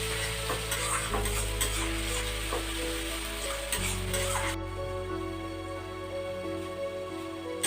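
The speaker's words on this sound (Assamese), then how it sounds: "নহৰুখিনি ফ্ৰাই হৈ গ'ল." Garlic paste for mutton korma fries in a pan with a steady, close sizzle and occasional stirring scrapes, continuous throughout with no voices.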